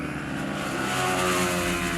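A TVS Apache RR 310 motorcycle exhaust gives a deep, bassy, sustained drone that swells slightly, loud and close with no talking.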